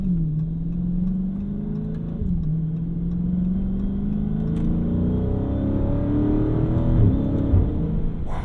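A 2017 Dodge Charger Daytona 392 growls from inside the cabin as it works through a series of quick downshifts, the engine note dropping and climbing again in sharp revving sweeps, loud and close, with no talking.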